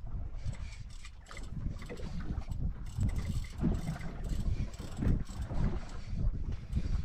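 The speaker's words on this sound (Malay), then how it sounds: "Ya, ke putar bot ya." A boat turning on the water during a popping fishing trip off Aceh, with a low, continuous engine and hull rumble, mechanical rattling and gusts of wind buffeting the microphone throughout.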